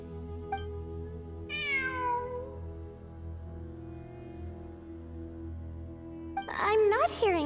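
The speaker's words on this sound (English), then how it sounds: "It really is a cat." A cat meows inside a video game, with two clear meows: a drawn-out one near the start and a shorter cluster near the end, heard over a steady game music backdrop.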